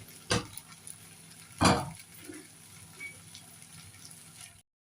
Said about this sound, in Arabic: يتشوح العدس معاهم بس كده شويه